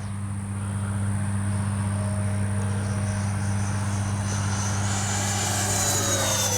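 A Freewing 80mm Avanti S V2 RC ducted-fan jet flies a snap roll, giving a steady, fairly loud whine over a low drone that sweeps upward in pitch near the end, with no talking.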